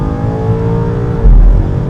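A 1000HP BMW M5 G90 with a turbocharged V8, catless downpipes and double X-pipe exhaust, droning loudly from inside the cabin, swelling harder as the throttle opens near the end.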